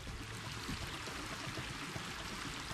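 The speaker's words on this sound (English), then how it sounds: "It is well worth taking a moment at the top of the falls to watch the water tumble past." Sulphur Creek in Capitol Reef tumbling over a small waterfall onto polished stone in a canyon, a dense, continuous rushing roar with no pauses, close and steady, with no voices.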